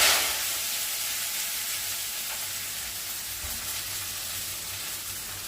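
Leafy greens frying in a pan make a continuous soft sizzle and hiss with light stirring, close and fairly quiet, with no talking.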